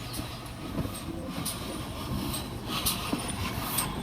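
A railway locomotive hauling a train passes close by with a steady, continuous rumble and rail clatter, occasional sharper clanks over the top, and no voices.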